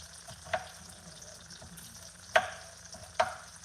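Onions fry in a pan alongside potatoes and salmon, giving a steady close sizzle broken by three sharper spattering pops, with no voices.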